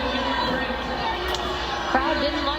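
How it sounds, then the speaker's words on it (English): A basketball arena crowd at a women's college game between Utah and Stanford reacts to a foul call with a low, steady murmur of chatter and disapproval, moderately distant, under an announcer talking. "Crowd didn't like that call"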